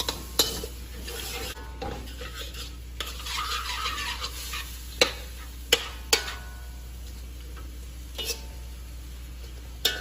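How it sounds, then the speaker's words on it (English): Bean sprouts and snow peas being sautéed in a pot, with a steady sizzle under repeated scraping stirs and sharp clinks of a utensil against the metal, close and moderately loud, no voices. "We'll saute this around for about 2 minutes"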